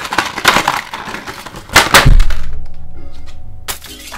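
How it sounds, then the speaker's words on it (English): A glass pane shatters as a sound effect: loud, bright crashing bursts, then a heavy crack with a low thud. Glass fragments ring and tinkle as they fade out, and one last sharp hit closes the sequence. "Glass pane effect, baby."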